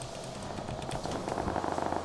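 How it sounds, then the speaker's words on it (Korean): Faint, distant gunfire in PUBG crackles in quick irregular bursts, like scattered shots popping far off. "이제 총소리 많이 나죠 정면에"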